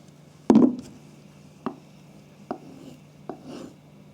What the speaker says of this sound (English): this high angle stropping makes the edge much duller, no good